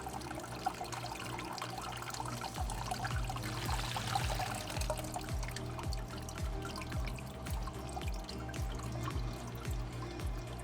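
Water pouring fast from a paludarium water feature in a 75-gallon tank, a continuous splashing trickle with bubbly gurgles running throughout, close and steady.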